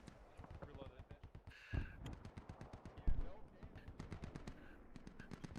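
Heavy .50 cal machine gun fire in the military game Squad, exchanged at roughly 1,000 meters: steady rhythmic bursts of repeated shots running throughout, with a couple of louder impacts, under talk.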